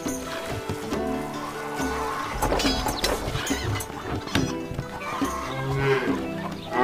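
Cattle mooing in the medieval castle-building strategy game Stronghold, with several low moos standing out against a busy, continuous backdrop of in-game music and ambience.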